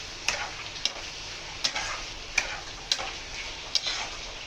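Rice fries in a pan with peas and cashew nuts, a steady sizzle broken by regular sharp taps of a spoon stirring against the pan, about one every half second, close and without voices.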